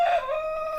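A Brahma chicken gives one brief, loud, close call, a strained tonal squawk lasting under a second, with no talk.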